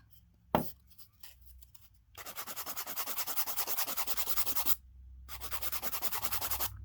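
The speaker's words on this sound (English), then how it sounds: "Now we're going to do a little filing" Poly gel nails are filed with a rapid, steady back-and-forth rasp. It runs in two long runs after a sharp tap, with a brief pause between, quiet and close, and no voices.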